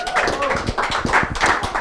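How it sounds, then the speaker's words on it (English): A short burst of hand clapping from a small group at the European Cricket League draw, scattered claps tapping unevenly for a couple of seconds, fairly close and moderately loud. "Give him a round of applause."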